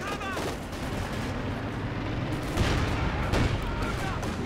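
Gunfire and explosions rumble through a Company of Heroes 2 real-time strategy battle, dense and continuous, with a commentator talking over it.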